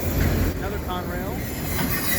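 A fast CSX autorack freight train on the Pittsburgh Subdivision roars past close by, with a dense rumble of wheels and a brief metallic squeal over the continuous rush.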